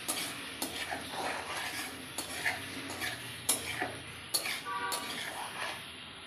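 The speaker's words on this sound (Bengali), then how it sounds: "তারপরে নাড়াচাড়া করে মশলাগুলো মাখিয়ে নেব।" Mushroom noodles tossed with spices and green chili sauce in a pan, heard as a string of light metallic clicks and scrapes from the stirring utensil, steady and close.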